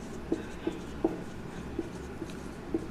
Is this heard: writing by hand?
yes